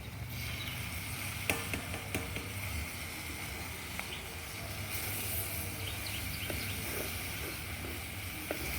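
Tomatoes fry in a pan with already fried raw mango and okra for a roti pachadi, a faint continuous sizzle with scattered small pops and clicks, no talking.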